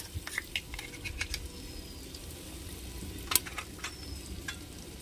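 Garlic paste spits and crackles in a pan while mutton curry is being cooked: a quiet, uneven sizzle broken by scattered sharp pops and one brighter clink, with no voices.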